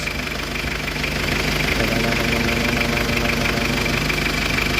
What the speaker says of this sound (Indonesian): Nah ini mesinnya Mas Bos.